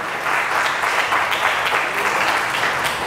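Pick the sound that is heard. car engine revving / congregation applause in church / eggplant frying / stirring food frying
congregation applause in church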